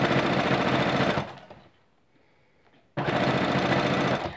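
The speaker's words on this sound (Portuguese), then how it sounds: "Coloco o calcador aqui e continuo a costura." Domestic sewing machine stitching bias binding onto fabric, a loud close buzzing run that stops for about two seconds of near quiet, then starts again abruptly at full speed.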